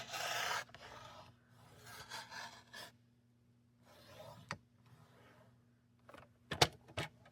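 A paper trimmer cutting cardstock makes quiet, scattered rasping slides and soft scraping strokes, separated by near-silent pauses, with a couple of sharper clicks near the end.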